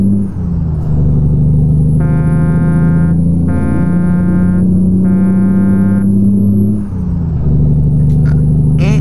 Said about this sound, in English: Sounds like an air horn.